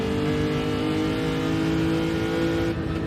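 A race car engine held at high revs in a racing game on the Miyabi circuit. It gives a loud, steady droning whine that holds nearly constant throughout, with no talk.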